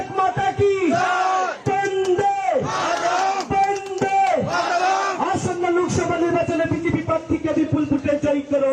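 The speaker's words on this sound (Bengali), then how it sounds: "এই শুভ উদ্বোধনে সবাই একসাথে স্লোগান দেবো, বলে ভারত মাতা কি।" Crowd chanting the slogan 'Bharat Mata ki Jai' at a BJP padayatra rally with the Chief Minister in Nabagram, loud massed voices in repeated rhythmic call-and-response bursts, close and continuous.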